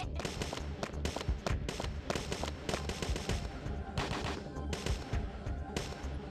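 Rapid, irregular bursts of gunfire from the video game Parasite Eve 2, loud and close, cracking in dense volleys with brief gaps throughout.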